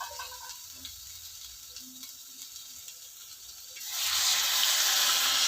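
Mint and coriander water poured into a hot pot for coriander rice, starting after a quiet stretch with a sudden loud, steady rushing hiss and sizzle that holds to the end.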